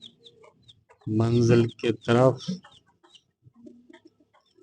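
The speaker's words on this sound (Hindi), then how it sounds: "ये मुर्गा और मुर्गी निकल रहे हैं बाहर आस्ते आस्ते" A rooster and hen clucking as they slowly step out from under a rabbit hutch, a short burst of close, loud calls in the middle with a person speaking briefly.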